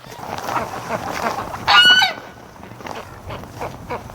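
A domestic goose kept with wintering ducks near a barn lets out a single loud, brassy honk partway through, standing out over a steady low rush of background noise, with no talking.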